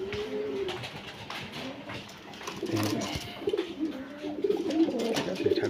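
Pigeons coo softly in a loft of breeding birds kept for sale, low repeated murmuring coos rising and falling, growing busier toward the end, with faint background noise and brief voices.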